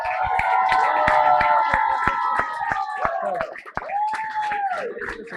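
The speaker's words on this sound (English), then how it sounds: "can we have a big round of applause for this legend" A crowd claps in steady rhythm for a guest of honour at an evening event, sharp repeated claps over loud sustained music, with no clear cheering.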